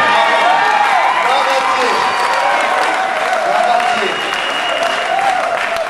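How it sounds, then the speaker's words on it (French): A church congregation applauding after a sister's sung performance at a gospel gathering in Rotterdam, a dense, steady wash of clapping and crowd noise filling the room throughout, with voices mixed in. "Elle mérite vraiment nos acclamations."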